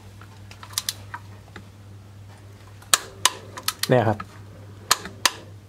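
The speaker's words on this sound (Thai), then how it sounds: "ถ้า25เมื่อไหร่มันจะดังคลิกขึ้นมาเอง" Torque wrench on the oil drain plug of a Mercedes-Benz W124/W202 with an M111 engine, set to 25 newton metres: scattered sharp clicks and taps over a low steady hum, plus a brief ratcheting burst near the middle, with a short spoken word.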